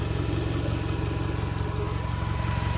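A car engine idles steadily and loudly up close, with a constant low drone and a faint whir that may come from a pulley, and no talking over it.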